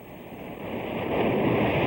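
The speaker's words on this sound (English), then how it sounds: "Here we have the sound of the ocean." Ocean waves sound effect played back from a sound-effects phone on a live show: a broad, rising wash of surf that swells steadily louder over about two seconds, with no talk over it.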